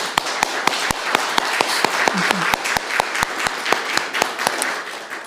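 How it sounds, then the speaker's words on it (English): An audience at a faith, justice and women's leadership gathering applauds, with a broad wash of clapping cut through by sharp, evenly spaced claps keeping a steady beat throughout. "Can we give another round of applause for Zahra, please?"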